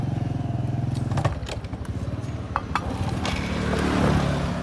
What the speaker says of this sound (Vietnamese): Rồi bắt đầu nổ máy này đi.